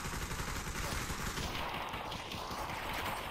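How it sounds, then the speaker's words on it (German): Rapid gunfire from the VR shooter Population One, dense overlapping shots and bursts crackling continuously at close range, loud and busy throughout with no talking. "Wieso hört man jetzt eigentlich die Schüsse?"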